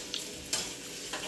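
An egg sizzles and spits in a small pan, a steady hiss broken by a few sharp scraping stirs, close and fairly loud, with no talking.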